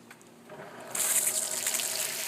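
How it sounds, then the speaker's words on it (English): A homemade garden sprinkler with enlarged holes sprays thick jets of water. A faint trickle swells at about one second into a louder, steady hissing spray that continues close by without talking. "Made the holes bigger, so it's thicker water and it goes farther out, and there's less holes."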